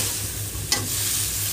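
Yardlong beans sauté in a pan as part of an ilish fish curry, a steady close sizzle with a brief scrape of stirring partway through.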